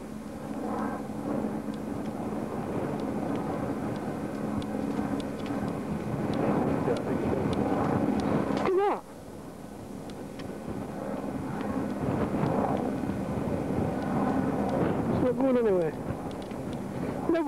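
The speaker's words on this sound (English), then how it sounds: "with noise of helicopter in background" A helicopter passes overhead in the sky over Mansfield, England, its steady, throbbing drone loud and continuous throughout, dipping briefly midway before swelling again, with voices at times.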